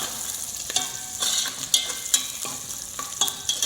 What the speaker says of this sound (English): We have to just lightly saute.